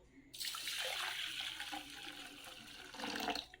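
Water poured into a bucket holding detergent powder, rock salt and citric acid, a loud rushing gush that starts abruptly, stays steady, then swells again near the end.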